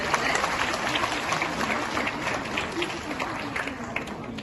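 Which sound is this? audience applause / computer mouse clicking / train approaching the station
audience applause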